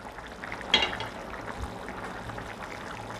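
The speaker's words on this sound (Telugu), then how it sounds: "కూర మొత్తం నీట్గా తెల్లుతుంది." Chicken curry bubbling in a pot over high flame, a soft continuous simmering with a brief louder liquid splash or stir near the start, then steady low gurgling throughout.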